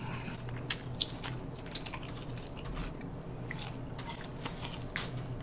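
Someone eating crispy lechon kawali and mung bean stew, with close, quiet wet chewing, small crunches and clicks over a faint steady background hum.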